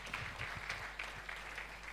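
A crowd applauding at an app launch event, with dense, steady clapping from many hands throughout a short stretch.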